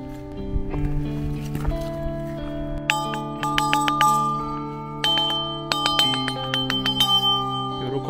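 A bell rings repeatedly with bright, sustained metallic tones that overlap and decay, struck several times in clusters, loud and close.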